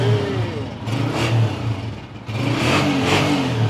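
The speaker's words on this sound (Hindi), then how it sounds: "गाड़ी का साउंड चेक करें जी।" A red 2022 Honda 125 motorcycle engine revs close by in two strong bursts, with a brief dip between them and a steady mechanical hum throughout. No one speaks.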